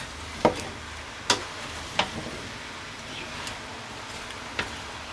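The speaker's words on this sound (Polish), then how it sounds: "Teraz wszystko razem pomieszamy i będziemy dusić nasze warzywa przez następne 10 minut." Leek and potato vegetables stirred in a pot for a creamy vegan soup, heard as a few sparse knocks of a spoon against the pot over a faint steady background hiss, with no speech.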